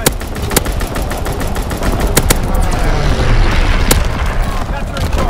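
Strafing run in Call of Duty: WWII, with sharp gunfire bursts and a dense, loud rattle of shots and impacts, and a voice calling out over the barrage.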